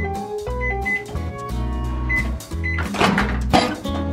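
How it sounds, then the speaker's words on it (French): A microwave oven heats a bowl of dough covered in pierced plastic film at high power, giving a steady low electrical hum with a few clunks and rattles toward the end and no talk. "On va aller mettre ça au micro-ondes"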